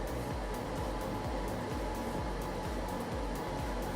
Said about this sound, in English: My heat has just kicked on.